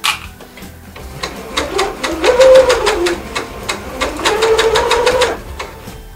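Sewing machine stitching fabric diapers in two fast rhythmic bursts of needle strokes, with a brief pause between them while the fabric is turned and the presser foot lifted; close and steady, no talk.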